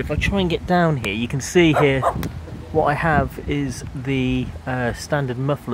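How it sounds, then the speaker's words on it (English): Dogs bark and yip at intervals in a home garage during a Porsche 911 exhaust install, mixed in with someone talking close by throughout. "excuse the dogs"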